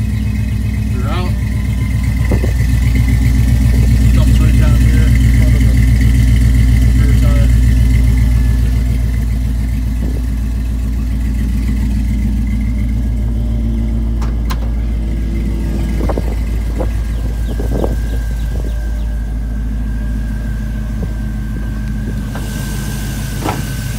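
A 1986 Chevrolet C10 Silverado pickup with a Vortec engine, stainless long-tube headers and custom stainless Flowmaster dual exhaust idles nearby in a steady low rumble, with a brief rev midway and someone talking over it.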